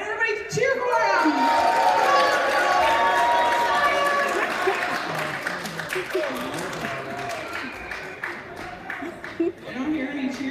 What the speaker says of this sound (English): All right, everybody cheer for him.